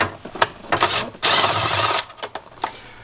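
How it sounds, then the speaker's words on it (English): A cordless impact driver fitted with an extension loosens a fastener deep in a Sprinter van's fuse block area, giving a loud, close whirring burst of about a second between shorter buzzy taps and clicks. "So I've got an extension on my impact driver, and we're going to get all the way down in there"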